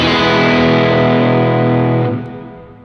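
Electric guitar through a Heather Brown Blessed Mother overdrive pedal with the gain at half, a loud, sustained distorted chord ringing alone for about two seconds before it fades away.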